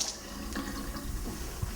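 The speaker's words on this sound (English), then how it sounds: "So Denise, while you're running the water in the sink" Water running from a kitchen sink faucet during a home inspection, a steady broadband hiss that stays even and continuous with no voices.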